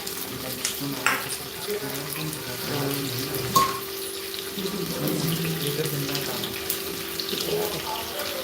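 Rice is rinsed under a running kitchen tap, with a steady stream of water splashing into a pot. Grains and water are stirred and sloshed by hand, close up and fairly quiet, and there is no speech.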